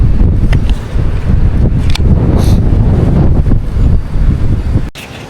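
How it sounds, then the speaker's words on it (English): Strong Santa Ana windstorm in Southern California buffeting a DJI Mic Mini fitted with a windscreen: a loud, continuous roaring rumble with gusty surges that drops off abruptly near the end. "So right now the audio that you are hearing is coming from the DJI Mic Mini with this wind."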